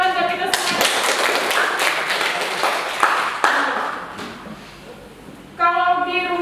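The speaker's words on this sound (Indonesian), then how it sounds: "Ya, tepuk tangan buat kita semua." Group clapping in a classroom, a burst of brisk, loud hand claps that fades out, with speech heard before and after.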